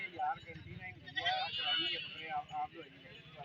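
A young goat, two months pregnant, bleats at a busy goat market in Faisalabad; its wavering calls come in short bursts under loud, continuous conversation among traders.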